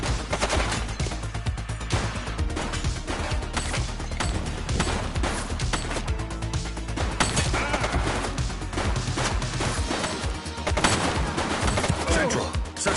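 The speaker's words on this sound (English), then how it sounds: "She's shooting!" Sustained rapid gunfire from a shootout involving a female shooter, dense bursts of shots crackling continuously at high loudness throughout, with no clear pauses.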